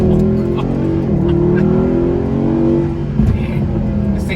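Mercedes-Benz AMG SLS engine revving and accelerating, a loud, steady low drone that rises in pitch, dips, then climbs again, heard close and alone.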